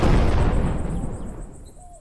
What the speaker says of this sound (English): Oder jetzt sprengt er sich selbst in die Luft.